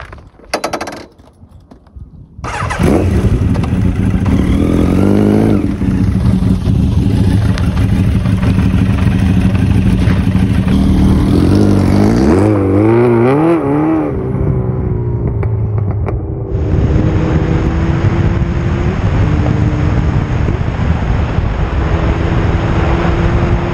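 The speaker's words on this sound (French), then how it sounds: "vous montrer un peu le comportement moteur de cette petite XJR 1300" A Yamaha XJR1300 motorcycle engine runs loud and steady while riding on country roads, a continuous throaty drone with rising and falling revs, up close and alone.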